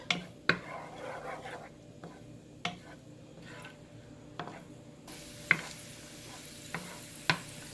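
Raisins fry in a pan for zarda, the sweet rice dish, giving a faint, steady sizzle broken by several sharp spoon taps and scrapes against the pan as they are stirred, with no talking.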